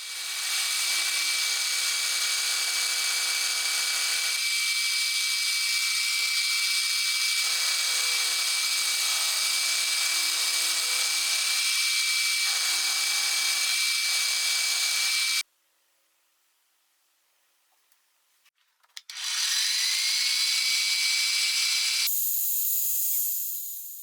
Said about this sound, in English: After milling, he drills the mounting holes in the correct positions so the oil tank can be securely bolted in place.